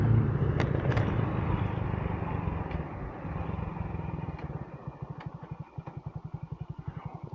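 A Honda CG125 motorcycle runs along a cold rural road, its engine droning steadily up close before settling into a distinct rhythmic pulsing toward the end.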